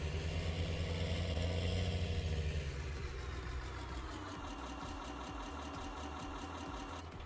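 Tractor engine idling in Farming Simulator 19, a steady mid-pitched mechanical drone that holds constant for several seconds, with the low rumble thinning slightly partway through.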